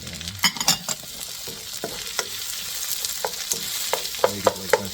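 Onions and garlic fry in a pan as a spatula stirs them, a steady sizzle broken by sharp scraping clicks and taps against the metal, close and without talk.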